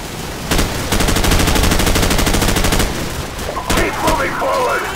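Loud, rapid automatic gunfire in Call of Duty Modern Warfare's bog battle crackles in dense bursts, overlapping shots fading toward the end as a shouting voice breaks through.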